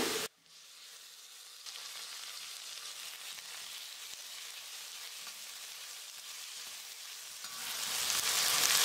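Chopped tomato and onion sautéing in a pan for upma, a soft steady sizzle starting after a brief gap, rising louder and brighter toward the end, no speech.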